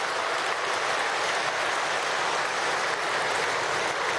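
Sustained, dense applause from an audience at a ceremony marking a bicentenary in Trujillo, loud and steady throughout with no voices breaking through.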